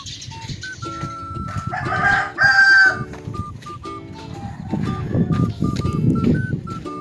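A rooster crows loudly and close by, with hens clucking and squawking around it and a high beeping tone recurring in the background.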